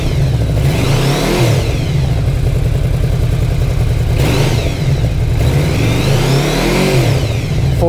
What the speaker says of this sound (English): I'll rev it up just a little bit,